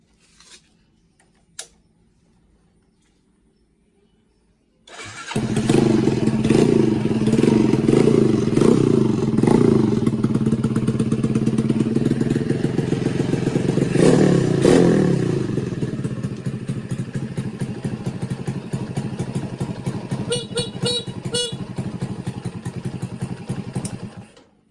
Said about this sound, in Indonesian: langsung saja kita coba di starter sama klakson ya teman-teman